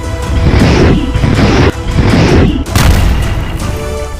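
Russian missile strikes on Kharkiv, Ukraine, including its railway station: a loud, dense series of rumbling blasts and crashes, several heavy bursts rolling into one another with no clear gaps.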